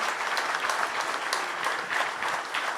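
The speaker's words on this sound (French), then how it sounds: "vous pouvez applaudir" An audience applauds during a history-event visit to an industrial site in Romorantin, France. The steady, dense clapping fills the room at an even level throughout.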